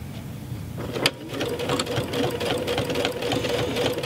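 Baby Lock serger stitching down quilt binding, with its blade trimming alongside the fold; a steady close mechanical hum with a fast stitching chatter and a brief sharp click near the start, no speech.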